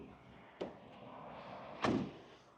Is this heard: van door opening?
yes